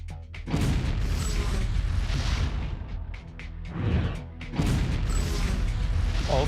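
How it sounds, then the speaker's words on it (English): A prototype pistol is fired three times, producing heavy, booming low-frequency reports spaced a couple of seconds apart, each with a rumbling tail. "Arthur fires 3 times."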